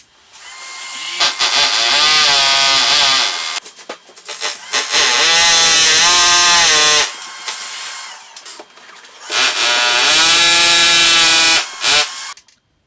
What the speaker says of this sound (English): use the drill and the hoover at the same time, just to get rid of all that dust